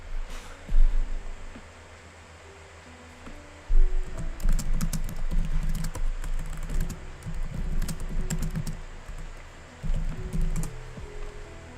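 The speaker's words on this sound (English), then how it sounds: "Sorry if you can hear me typing." Close, continuous typing on a computer keyboard, with rapid key clicks in uneven bursts and a few pauses, heard alone without talk.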